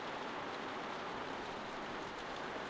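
Steady rain falls outside a barn in The Walking Dead video game, an even, unbroken wash of patter with no voices over it.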